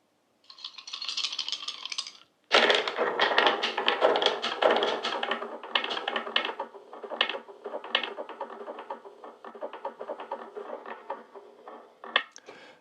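Dice clattering and rolling across a hard surface, a burst of sharp clicks that taper into scattered taps, with a final rattle near the end.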